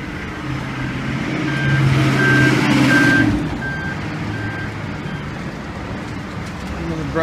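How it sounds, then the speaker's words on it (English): A new NYPD ESU truck backs up on a Midtown Manhattan street. Its reversing alarm sounds a steady run of evenly spaced beeps over a diesel rumble and city noise, then the truck moves off and the beeping stops. "Brand new ESU truck."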